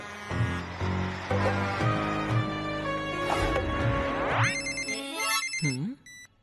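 A telephone rings in a cartoon hotel scene, a musical ringtone of repeated bright tones followed by rising sweeps and chirps, clear and fairly close for several seconds.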